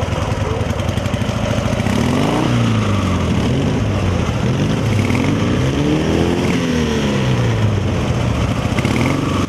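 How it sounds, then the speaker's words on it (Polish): Military-style motorcycles with sidecars roar through a town market square during a wartime reenactment, several engines revving and rising and falling in pitch close by, loud and continuous without talk. "Warkot silników motocykli słyszany był już z daleka."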